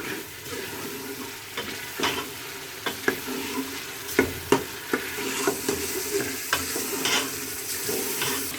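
Spiced masala for a black chickpea curry stirred and fried in a pot, giving a steady sizzle with repeated scraping clicks of the spoon against the metal, close and fairly loud, with no talking.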